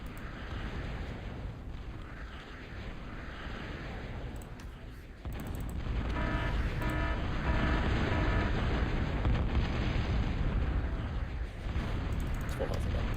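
Bombing run explosions in a multiplayer strategy game during a birthday tournament: dense rumbling blasts and crackle fill the mix, growing louder and denser halfway through, with a steady loud bed of impacts throughout.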